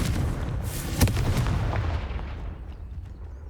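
A Confringo spell blast in the video game Hogwarts Legacy, a booming fiery explosion with a sharp crack near the one-second mark over a rumbling low roar that slowly fades away.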